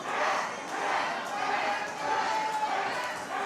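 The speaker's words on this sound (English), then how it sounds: "But this crowd chanting Jack" Wrestling crowd at a CWF Warfare show chanting for Jack Maguire, a dense, steady roar of many voices filling the room at fairly close range, with rhythmic swells rising throughout.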